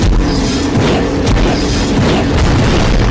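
Bomb shot in the video game Jak and Daxter: The Precursor Legacy, giving a loud, continuous booming rumble with crackling bursts that fills the whole moment.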